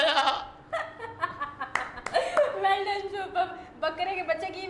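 A voice imitates a goat calling to its kid with wavering, bleating cries, broken by laughter and short bursts of chatter nearby.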